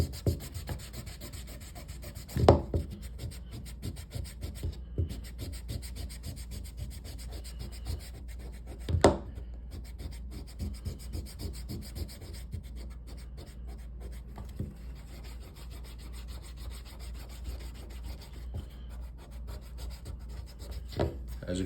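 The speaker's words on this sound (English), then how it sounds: "So I'll use the other end of the eraser for this." An eraser scrubbing back and forth across the black side of a leather strop makes a faint, close rubbing scratch, with a couple of sharper knocks along the way.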